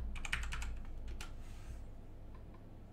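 Quick clicking keystrokes on a computer keyboard come in a rapid cluster as commands are typed, then thin out to a few faint taps before quiet, close and with no voices.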